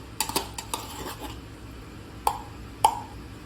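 A utensil scraping leftover tomato paste out of a container makes a few light clinks and scrapes. Two sharper metallic taps ring out near the end against a quiet background.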